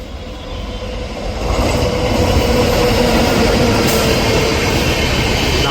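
A long Yeshwantpur–Hazrat Nizamuddin Sampark Kranti Express runs through a station at Dholpur without stopping, a loud sustained rumble of wheels and carriages that swells after the first second and stays heavy, with faint metallic squeal.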